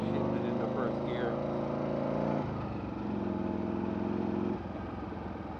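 Harley motorcycle engine rumbling loud and close as the rider pulls away from a light in first gear, the pitch climbing and then dropping with a shift, while someone talks over it.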